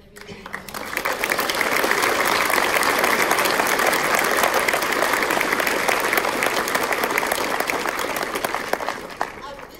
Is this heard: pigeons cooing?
no